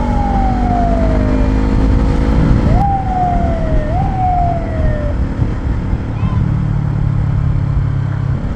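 Police siren wailing in steady falling sweeps, several repeated tones loud and close over constant traffic and engine noise on a ride through Guimbal, Iloilo.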